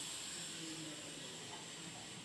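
Eggs frying in a pan on a gas stove in a home kitchen give off a steady, even sizzling hiss that holds at the same moderate level throughout, with no voices.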